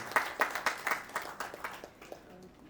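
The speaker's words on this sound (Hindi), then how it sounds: "एक जोरदार ताली आप सभी लोगों के लिए" A small gathering claps at a Lions Club installation ceremony, a brief burst of distinct, fairly close claps that quickly thins out and fades within a couple of seconds.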